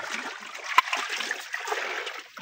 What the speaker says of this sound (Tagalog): Lagyan mo tubig yung balde, Mark.